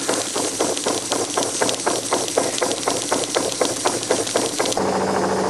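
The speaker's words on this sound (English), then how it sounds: "Now just on tick over now, and look at this little twin cylinder engine go." A little twin-cylinder live steam engine in a radio-controlled model boat idles at tick over, giving a quick, even run of sharp mechanical beats close by, with the chuffing thinning toward the end.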